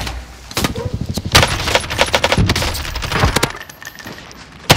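Gunfire in the video game Warzone, a series of sharp shots in bursts of varying spacing across the clip, loud and close.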